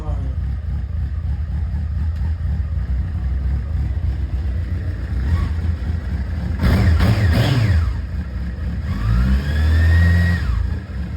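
A mid-pitched Honda CBF600N motorcycle engine runs steadily close by in a garage, then revs up twice in rising bursts before settling back toward an idle.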